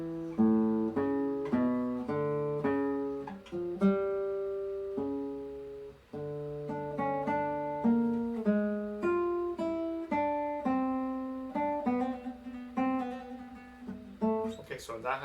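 Guitar playing a fugue passage, a clear, fairly quiet stream of plucked notes in interweaving lines with a brief pause midway, each note ringing and decaying at an even, moderate pace, heard alone without talk.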